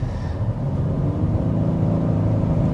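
A 2025 Genesis G80 with a 3.5-liter twin-turbo V6 accelerating, a steady smooth engine drone and road hum from inside the cabin, fairly even in loudness throughout.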